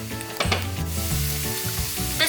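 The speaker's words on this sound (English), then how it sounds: "This mixture has been frying now for the past 2 minutes, so the tomatoes are nice and mushy." Tomato mixture for chana masala frying in a pan, a steady loud sizzle with stirring scrapes and clunks throughout, no voices.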